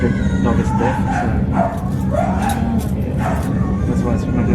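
A stressed deaf dog aboard a first-class V/Line train carriage between Wodonga and Melbourne barks and yips in several sharp, rising bursts over a low rumbling engine and track drone, with faint voices nearby.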